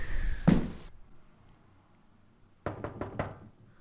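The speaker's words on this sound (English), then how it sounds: "Someone's knocking at my door." Four quick, evenly spaced knocks rap on an apartment door in The X-Files video game. They are crisp and fairly close, following a brief earlier noise and a stretch of near silence.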